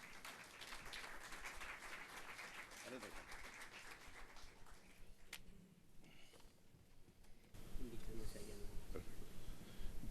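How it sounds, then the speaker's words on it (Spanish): An audience applauds for Dr. Wilfredo Penco at an electoral justice conference, a steady crowd clapping that swells louder near the end. "un fuerte aplauso le brindamos al doctor Wilfredo Penco"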